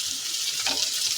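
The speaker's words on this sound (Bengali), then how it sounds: "এই যে বাটা পেঁয়াজটা দিয়ে দিলাম," Onion paste hits a hot pan while a Bengali jackfruit and prawn curry is being made, giving a loud, steady hiss with a brief surge in the sizzle partway through.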